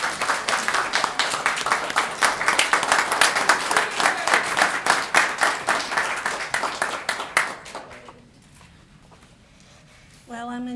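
Sustained audience applause greets a Hall of Fame inductee at a Lakeland Community College alumni induction ceremony, loud and even for about eight seconds before fading, then a voice begins speaking.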